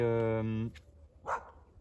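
A dog's sustained harmonic whine or howl for under a second, followed by a brief faint yip, in a board game session about mountain hiking.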